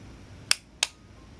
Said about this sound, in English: It should be a much slower shutter speed,